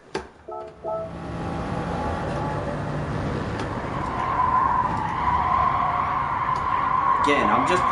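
A race car in a racing sim corners hard with tires skidding and squealing, engine rising in pitch as the slide builds and grows louder toward the end, after a few brief clicks at the start.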